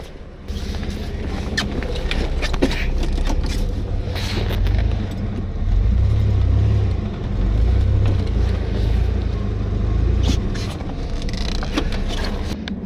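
A car engine rumbles low and steady as the vehicle maneuvers back and forth on a snowy Oregon mountain road, with faint scraping and crunching noises over the continuous drone.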